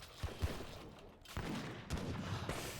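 Volleys of musket fire from Redcoat Musketeers raiding in a strategy video game, crackling bursts in rapid succession over a busy battle din, with a few sharper reports standing out.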